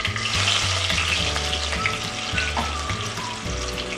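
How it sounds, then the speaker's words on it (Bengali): Pieces of rohu fish frying in hot white oil in a wok, a loud continuous sizzle and crackle heard up close, with faint clinks of utensils over the frying. "এবার আমি মাছগুলোকে ভাজবো।"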